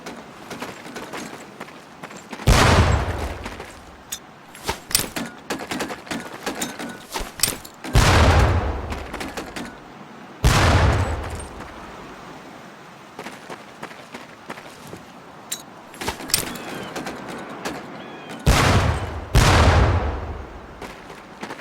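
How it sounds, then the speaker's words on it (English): Heavy, booming training grenade explosions burst at intervals, about seven deep blasts in all, with lighter gunfire and activity between them on a Medal of Honor: Pacific Assault boot camp range. "Pull the pin and let them fly. See if you can hit some of those barrels out there."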